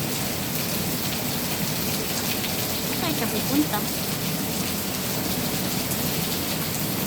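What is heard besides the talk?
heavy rain falling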